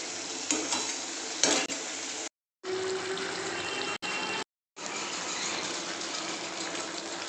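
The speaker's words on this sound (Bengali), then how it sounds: "তরকারিটা মাঝে মাঝে মাছের তরকারিটা একটু হালকা হাতে নাড়তে হবে" Small-fish curry with a little water, stirred gently in a pan: soft bubbling sizzle with a few spoon scrapes and clinks early on, broken by short silent gaps, close and fairly quiet.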